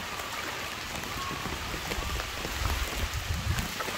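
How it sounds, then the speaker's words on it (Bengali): Heavy rain pours down steadily on a flooded papaya orchard, a dense, constant hiss of drops on surfaces with a low rumbling undertone, close and loud throughout. "বৃষ্টির এত পরিমাণ, এত চাপ,"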